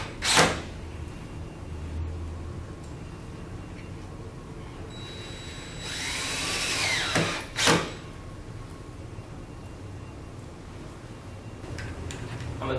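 A power drill briefly whirs, about a second and a half, driving a 7/8 inch stainless steel screw into a pre-drilled hole in the mulling plate of a transom unit on a Neuma door, with sharp clicks before and after in a quiet room.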